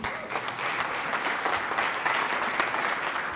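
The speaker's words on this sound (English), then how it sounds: "you can clap for that, absolutely" An audience at a business talk claps steadily, a dense even patter of many hands filling the room without a break.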